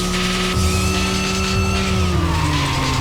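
A fast race car in the Racing Lagoon game roars steadily through a 20-lap endurance race, its engine droning loud and close while tires squeal and the pitch slides downward as it corners.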